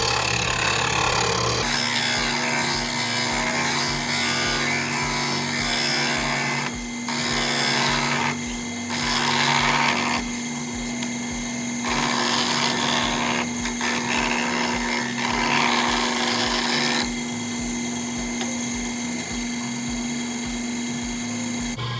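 A power tool sands the rounded corners of a plexiglass panel, a loud, steady whir with a constant hum, broken by a few abrasive bursts and brief pauses as the tool presses against the plastic.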